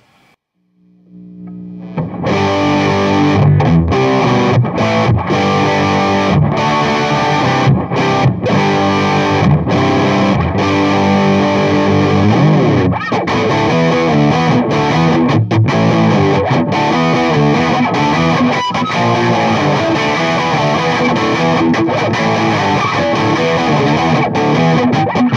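Electric guitar played through a King of Tone overdrive pedal with the tone knob at noon and stock dip switch settings, giving a loud, continuous distorted riff of strummed chords and notes that starts after a brief silence and runs without talk.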